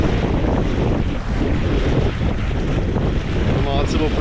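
Strong wind roars across the microphone aboard a sailboat at sea, a loud, constant rushing buffet with water noise beneath and brief lulls, no one speaking.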